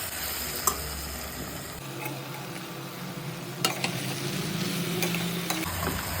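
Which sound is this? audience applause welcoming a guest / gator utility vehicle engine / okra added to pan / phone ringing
okra added to pan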